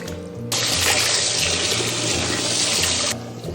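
Pork bone being rinsed under a running tap, a steady close splashing stream of water starting abruptly, holding for about two and a half seconds, then cutting off.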